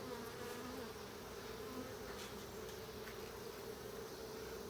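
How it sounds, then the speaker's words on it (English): A dense, steady drone of many honeybees buzzing close by on a hive frame, a continuous hum with no pauses and no voices. "There's a lot of bees on this frame."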